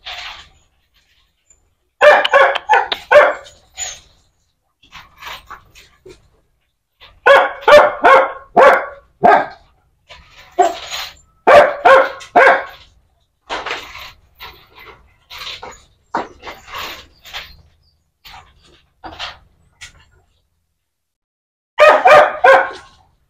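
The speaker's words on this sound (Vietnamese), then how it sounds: "Sủa quá trời sủa." Dachshunds bark in repeated loud bursts of rapid yaps, close, separated by short pauses and lighter panting-like sounds, with no talking.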